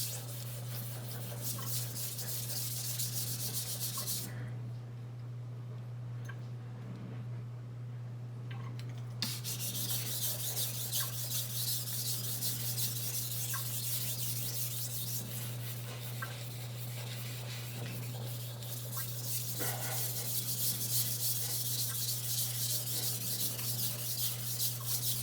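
Steady rhythmic rasping of a kitchen knife stroked across a sharpening stone, close and continuous for most of the stretch, with a few seconds of near silence partway through before the grinding strokes resume over a low constant hum.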